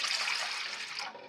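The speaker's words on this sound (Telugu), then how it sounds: "గ్లాస్ వాటర్ పోసుకొని వాటర్ బాయిల్ అయ్యే వరకు హీట్ చేసుకోవాలి." Water from a glass is poured into a pan on the stove in a short, steady splashing gush that cuts off abruptly.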